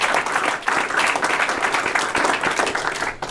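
A crowd at a press conference held in a school space gives continuous clapping applause, dense and even throughout, without speech on top.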